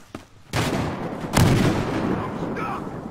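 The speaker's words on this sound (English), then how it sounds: "Here comes the grenade!" Grenade explosions in the video game Battlefield Hardline, two loud booming blasts about a second apart with rumbling decay, preceded by a faint thump.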